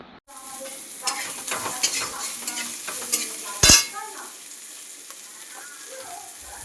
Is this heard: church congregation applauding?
no